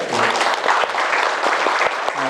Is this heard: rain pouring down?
no